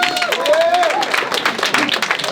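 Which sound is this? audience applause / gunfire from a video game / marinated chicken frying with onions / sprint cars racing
audience applause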